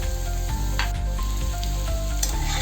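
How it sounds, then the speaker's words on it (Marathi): Chopped onion sautés in hot oil with turmeric, giving a loud, continuous close-up sizzle with slight stirring movement throughout. "थोडा कांदा परतला की त्यामध्ये आपण हळद टाकूया"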